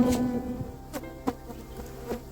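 Stingless bees swarming in a freshly opened hive give a steady, close, high-pitched drone, with a few buzzing individuals flitting past the microphone.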